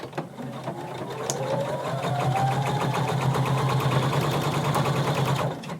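A sewing machine stitches a McCall 6361 seam on denim, running in a steady, fast, continuous whir close by for several seconds with a brief back stitch at the start, no talking over it.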